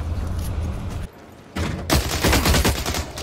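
Gunfire from The Cycle: Frontier, loud and close, in a rapid burst of shots after a brief lull, with no talk over it.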